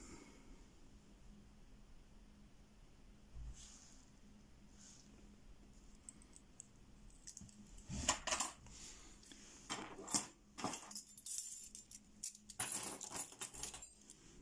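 Pack lock keys jangle and clink in quiet hands, faint at first and then in denser metallic bursts near the end, heard close with no voices.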